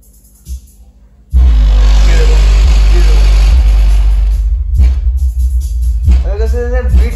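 Cheap DJ woofer home theatre speaker in a Delhi shop thumps a heavy, booming bass beat after a brief quiet start, loud and close, with a voice over the music near the end.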